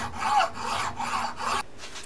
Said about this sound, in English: I've been filing on this section, making it a little thinner, so that the ring might fit over it.